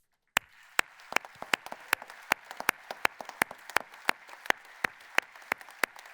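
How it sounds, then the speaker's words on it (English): Sparse, crisp claps from a small audience at the 2023 LONGINES World's Best Jockey Award ceremony during the Hong Kong International Races, with separate hand-claps landing in a loose, steady rhythm over quiet room tone. "he deserves definitely a big applause for this."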